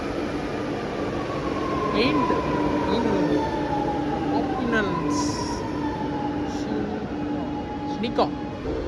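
A Chennai metro train bound for Central rumbles steadily with a rising and falling electric whine and occasional metallic squeals, loud and close throughout.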